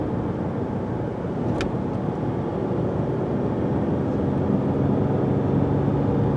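A Dodge Charger coasting down from about 35 mph after the driver lifts off the gas, giving a steady broadband rumble of engine and road noise heard from inside the cabin, with one brief sharp click partway through.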